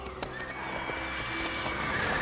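The horse Roach in the video game Witcher 3 gives a clear neigh over a steady clip-clop of trotting hooves, close and alone, with no talking.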